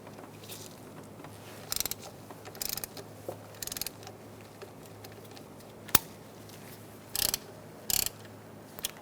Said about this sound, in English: Using a 12mm socket, we're going to loosen this bolt, and then we're going to go to this bolt, and we're going to loosen this as well.